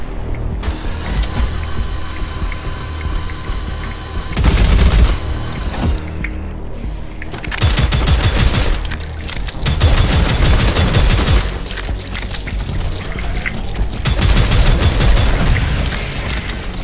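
Shotgun fire in the first-person shooter Prodeus: repeated heavy blasts in clusters with mechanical clanks between them, loud and close, over a steady background drone of game sounds.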